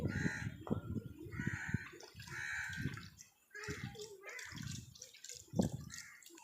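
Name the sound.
stone grinder being washed with water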